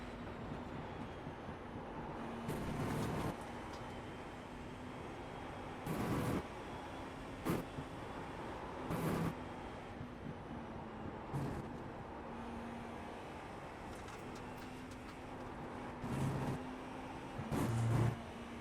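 A GTP race car from the iRacing game lapping Le Mans flat out through the Porsche section, a steady engine drone held throughout with recurring louder bursts as the car shifts or rides kerbs, no talk over it.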